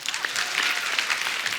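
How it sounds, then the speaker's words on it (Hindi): A studio audience on a comedy talk show bursts into loud, sustained applause, a thick, even roar of clapping with no gaps, close and filling the room. "जोरदार ताली हो जाए।"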